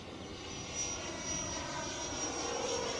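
A QT T45 Goshawk electric ducted fan model jet on 6S power cruises at about half throttle, producing a steady, continuous whine with a thin high tone. The sound is moderately loud and rushing, with no talk.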